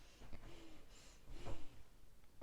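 A few close, quiet snorts and sniffs through the nose, with short breathy bursts spaced irregularly over a couple of seconds.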